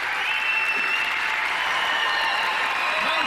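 Sustained applause from a live audience after a professional ten-ball pool match, a dense steady clatter of clapping filling the room with a few faint voices mixed in.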